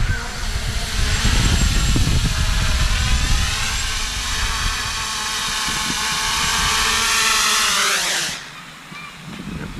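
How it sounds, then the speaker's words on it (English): An MJX Bugs3 quadcopter drone lands in gusty wind, its brushless motors giving a loud, steady whine with shifting pitch and wind buffeting, then abruptly dropping to a quiet idle near the end. "So I brought the throttle all the way down and the motors are idling."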